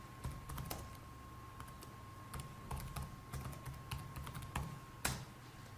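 Light keystrokes on a computer keyboard while a name is typed into planning software, a steady scatter of taps spread across several seconds over a constant low hum and faint background noise, with no speech.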